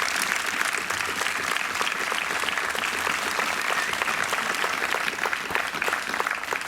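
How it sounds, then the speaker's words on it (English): Sustained applause from an outdoor audience at a New York State Police special operations team demonstration, a dense, even patter of many hands clapping that carries on without break for several seconds. "we think it's those guys that deserve the real round of applause today"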